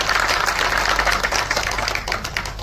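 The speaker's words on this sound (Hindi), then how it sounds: "तो एक बार थोड़ी जबरदस्त तालियां आनी चाहिए।" An audience at an event in Patna, Bihar, gives a sustained round of applause, a steady dense patter of many hands clapping, fairly loud and continuous.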